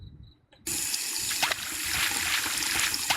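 In the Indian horror video game Ajnabee, a tap suddenly starts running as a character washes their face, a steady gushing splash following a brief quiet start with a faint tone.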